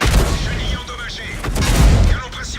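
A tank cannon fires in the World of Tanks video game, where a Maus heavy tank is in play. Several heavy booms come through loud and close under someone talking over the game.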